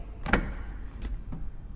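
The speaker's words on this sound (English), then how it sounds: "Okay, so let's open up the doors right here" Door of a Mercedes-Benz GLC350e Coupé in Spectral Blue Metallic opening, heard as a sharp click of the latch followed by two softer clunks, close by with no talking.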